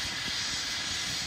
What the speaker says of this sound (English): Can you go ahead and land the helicopter?